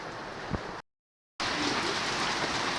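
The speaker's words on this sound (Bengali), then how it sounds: "এই যে বাইরে অনেক বৃষ্টি হইতেছে" Heavy rain pours outside a home on a wet day, a dense steady roar of falling water that cuts out briefly and then returns just as loud.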